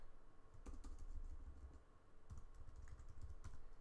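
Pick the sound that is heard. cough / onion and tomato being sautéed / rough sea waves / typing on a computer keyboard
typing on a computer keyboard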